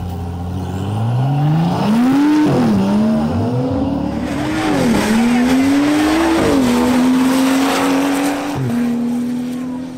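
A BMW 435i and a BMW M340i xDrive launch down a quarter-mile drag strip, engines roaring loud and close as they rev up through repeated gear shifts, with tire squeal and crowd noise under the run.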